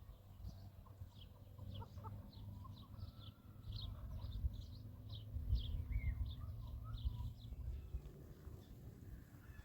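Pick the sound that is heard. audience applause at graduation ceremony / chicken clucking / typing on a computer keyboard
chicken clucking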